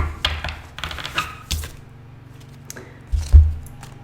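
Tarot cards are shuffled by hand up close, giving a series of quick papery riffles and taps spread unevenly across a few seconds, with no talking.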